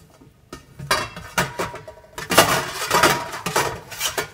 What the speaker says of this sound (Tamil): இப்போது நான் அதை வந்து துருவி எடுத்துக்க போகிறேன்.